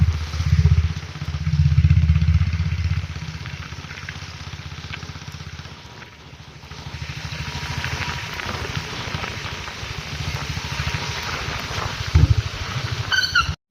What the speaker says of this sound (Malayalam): നമ്മൾ ബൈക്കിൽ റൈഡ് ചെയ്തോണ്ടിരിക്കുകയാണ്